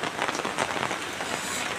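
Steady rain falls in a quiet rural village during the rainy season, a dense, even hiss of drops on surfaces that stays close and unbroken, with no voices.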